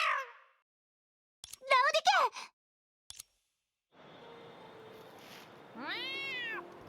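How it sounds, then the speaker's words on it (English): A cat in the video game Honkai Impact 3rd lets out several short, high meows and a rising chirp, close and clear, separated by silent gaps and then a faint hissing background. "In her moment of confusion, the cat darted past her like a flash of lightning."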